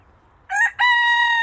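Razzle Dazzle, a frizzle rooster, lets out a close, loud crow: a short opening note, a brief gap, then a long held call running to the end.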